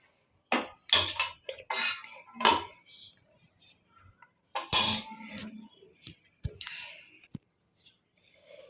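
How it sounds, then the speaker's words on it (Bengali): A spoon stirs yoghurt curry in a pan, giving intermittent scraping and clinking strokes close by, with quiet whispery speech and pauses between the movements. "এটা এরকম করে নাড়তে থাকতে হবে, কারণ এটা বন্ধ করা যাবে না নাড়াটা।"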